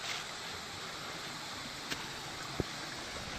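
Mountain stream in Wangbang Valley near Dongducheen, a steady broadband rush of flowing water filling the scene, with a couple of faint brief knocks partway through and no talking.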